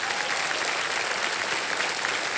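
Strong, dense studio audience applause on a game show set, a steady wall of clapping sustained throughout with no voices over it.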